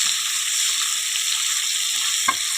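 Mutton being sautéed in a pan gives a steady, close, loud sizzle throughout, with one brief sharper crackle near the end; no one speaks.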